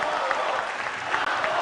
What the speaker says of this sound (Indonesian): kita berikan tepukan yang paling meriah untuk para calon pemimpin Indonesia